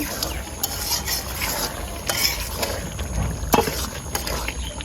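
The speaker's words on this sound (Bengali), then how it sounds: "এখন ঢাকনাটা ওচা করে নাড়া দিয়ে দেবো। এই যে বলক এসে পড়েছে।" Beef bhuna bubbling in a pot with its lid lifted, stirred with a spoon in steady scraping strokes over a low simmering bed, a few sharper utensil knocks standing out, close by and with no talk.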